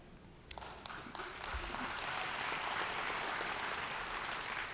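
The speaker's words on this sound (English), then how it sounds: "I think my mother is clapping in the third row over there." Applause from a large audience at a closing mainstage session, a few distinct claps followed by a steady wash of clapping that swells and holds, heard from a distance and fairly quiet.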